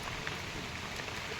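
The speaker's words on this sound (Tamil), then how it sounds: "மழை பெஞ்சிட்ருக்குன்னு சொல்லிட்டு." Steady rain falls in an Odia village setting, a soft, even hiss of drops pattering on surfaces with no voices over it.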